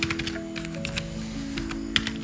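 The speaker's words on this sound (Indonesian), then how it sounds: "ketika mengetik ini harus hati-hati ya, karena jika ada salah ketik maka bisa menyebabkan" Fingers tap out Arduino code on a computer keyboard in a quick run of light, uneven key clicks over a steady low hum, with no one speaking.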